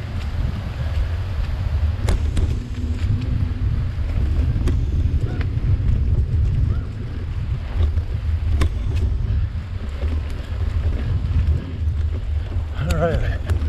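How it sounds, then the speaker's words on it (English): Heavy wind buffeting the microphone in a constant low rumble, loud and gusty throughout, with occasional clicks and rustles. "It's very windy out today."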